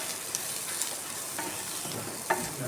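Sliced bitter gourd with turmeric and salt crackles softly in a pan as a spoon stirs it, with light scraping knocks over a steady low sizzle and no talking.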